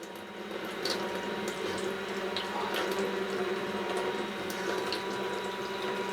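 Water runs from a van faucet fed by an electric pump at low pressure, a thin, steady splashing stream with faint mechanical whirring underneath and occasional small sputters, no one talking.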